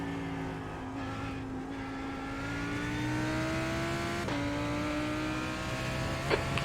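A faster GT3 race car at Road America in an IMSA GT3 racing game closes in and passes, its engine note climbing steadily then dropping sharply as it goes by, over the steady drone of the player's own car.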